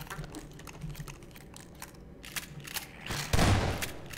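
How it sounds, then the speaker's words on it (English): Shotgun blasts in Half-Life 2, a run of sharp bursts with one loud, heavy boom near the end over game background noise. "shotgun"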